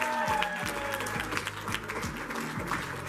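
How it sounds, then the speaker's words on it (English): Wedding guests in a tent clap and cheer steadily throughout, a dense, continuous wash of applause from a crowd. "Let's hear a big cheer for the maid of honor and best man."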